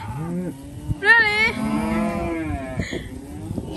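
Cattle moo on a farm where calves are being weaned, a few deep, drawn-out calls from close by, one rising louder in the middle, with low rustling and background movement.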